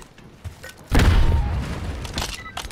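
A grenade goes off in the shooter Black Ops 6: a single heavy, booming blast lands abruptly and rumbles away over a second or two, with faint game noise before it.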